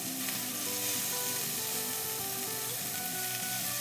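Ordinary bacon sizzles and spits in a skillet on an induction cooktop, a dense, steady frying hiss with faint electronic tones running underneath.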